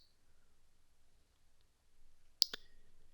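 A computer mouse button gives a crisp double click, two sharp ticks close together against a near-silent background.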